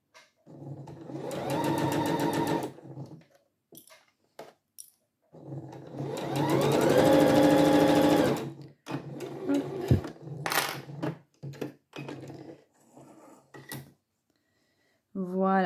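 A sewing machine stitches piping along a curved seam in two sustained whirring runs, close and loud, separated by pauses with handling clicks and fabric rustles.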